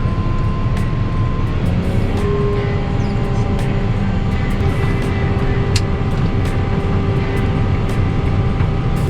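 A sugar beet harvester digs beets in a field, a steady loud mechanical rumble with engine drone and whining tones running continuously, with no pauses and no voices.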